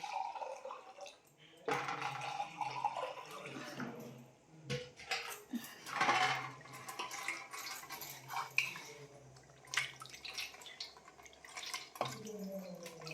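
Water runs and splashes as a pot is scrubbed and rinsed, with occasional clinks of metal and soft drips in between.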